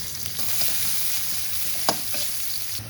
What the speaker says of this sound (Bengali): কড়াইতে তেল দিয়ে দিচ্ছি, এবার দিয়ে দেবো পেঁয়াজ কুচি। এগুলো আমি লাল করে ভেজে নেব।